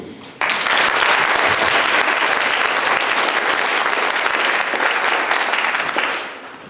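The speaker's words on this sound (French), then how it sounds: "je vais les appeler par pupitre, et après vous pourrez les applaudir." A concert audience at a wind band performance applauds flute players, steady full clapping from the whole hall that swells in abruptly and fades out near the end.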